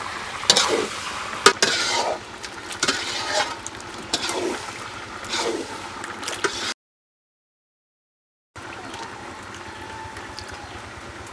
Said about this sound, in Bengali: একটু নাড়া দিয়ে যাও।